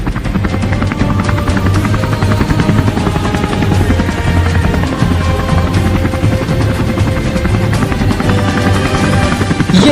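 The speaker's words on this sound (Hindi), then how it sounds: "भारतीय नौसेना में एक और बाहुबली MH-60R सी हॉक हेलीकॉप्टर आ गया है।" An MH-60R Seahawk naval helicopter flies close and loud, its rotor chop a steady rapid thumping over a dense engine whine that holds unbroken throughout.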